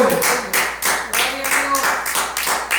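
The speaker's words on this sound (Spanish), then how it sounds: "Den un aplauso a Dios con todo su corazón." Churchgoers clap for God during a Spanish-language service, a few rhythmic bursts of claps with a voice speaking over them.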